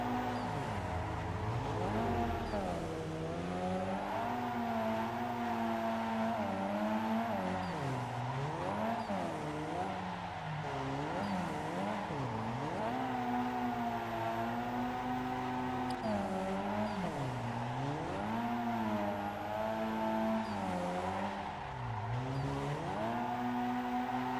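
Racing game car with a Nissan VQ V6 engine droning steadily throughout, pitch sweeping up and down with repeated revving and shifts, loud and continuous with no talking.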